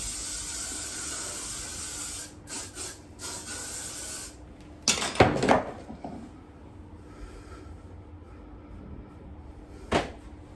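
Hairspray hisses from an aerosol can onto a hairpiece in a few short sprays, with one stronger burst in the middle and another brief one near the end, against a faint background hiss.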